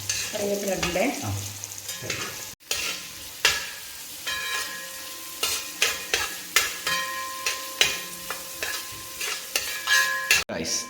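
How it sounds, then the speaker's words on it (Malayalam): Green chillies, garlic and curry leaves sautéing in oil for hog plum pickle, a continuous sizzle broken by repeated scraping stirs of a spoon against the pan at a roughly even rhythm, close and clear. "നമ്മുടെ പച്ചമുളക് വെളുത്തുള്ളി കറിവേപ്പില എല്ലാം വഴണ്ട് വന്നിട്ടുണ്ട്"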